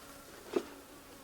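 A single honey bee zips past near a homestead hive, a brief buzzing swell that peaks and fades within a second against a quiet hum.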